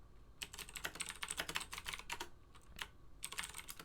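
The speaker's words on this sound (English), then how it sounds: "Just typing out to PUBG here," Fast typing on a computer keyboard during a PUBG gaming session, with quick bursts of clicking keystrokes and short pauses between them, close and fairly quiet with no talking.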